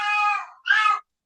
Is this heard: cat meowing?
yes